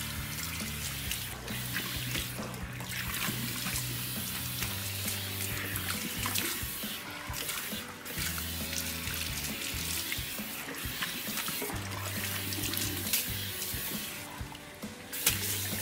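A steady stream of running water from a salon shampoo sink rinses amino-acid shampoo out of hair, splashing continuously and close with no speech.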